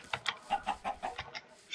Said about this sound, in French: Je vais tuer des poules.